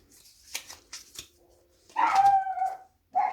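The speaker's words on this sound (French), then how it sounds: "j'ai ma chienne qui fait des siennes encore une fois" A female dog acting up indoors gives a few short yips and then a longer whining bark, close and fairly loud, broken by quiet gaps and small rustling noises.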